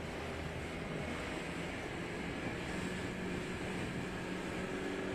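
Steady rush of choppy ocean water with rebounding waves at a surfski ocean racing world championship, broadband and continuous with wind noise on the microphone, no voices.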